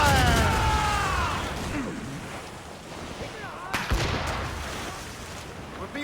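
Ship cannons fire in a naval battle in Assassin's Creed Rogue, heavy booming blasts over crackling debris and rushing sea noise, with a sharp close shot near the middle and game voices mixed in.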